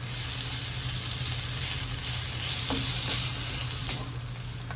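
String beans for adobo sauté in their own rendered fat with no added cooking oil, a steady close-up sizzle with faint occasional stirring clinks and no talking.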